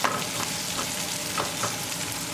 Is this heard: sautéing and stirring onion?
yes